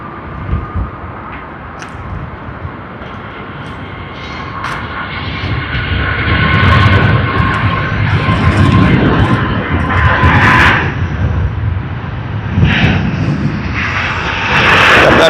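A Delta airliner in its 100-year livery takes off from Sydney Airport, its jet engine roar building steadily from moderate to loud as it gathers speed.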